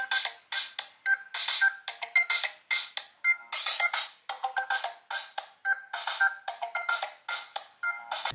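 A Lava Blaze Pro phone plays its ringtone loudly through the speaker, a bright, rhythmic pattern of short repeating tones with brief gaps, close and clear with no talk.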